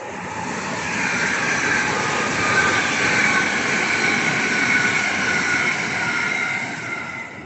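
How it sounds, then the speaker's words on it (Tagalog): A train rolls past beside the railway, a loud, steady broadband rush and rumble that swells and then holds for several seconds close by, with no talk over it. "Train."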